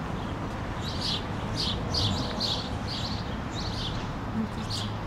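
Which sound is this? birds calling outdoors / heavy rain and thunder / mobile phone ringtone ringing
birds calling outdoors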